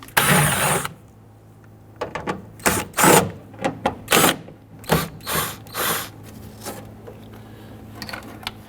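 A 10mm socket ratchet wrench loosens door speaker bolts on a Toyota Tundra, heard as a brief rustle and then a series of short clicking ratchet strokes in uneven bursts, close up and without speech.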